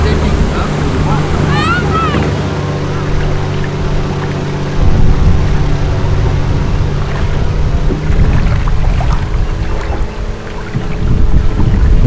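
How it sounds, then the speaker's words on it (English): Canadair CL-215 firefighting aircraft skimming the ocean near Los Angeles to scoop water, a broad roaring rush of engine and spray mixed with wind and surf, loud and continuous, with people talking over it. "Those are the planes picking up the water."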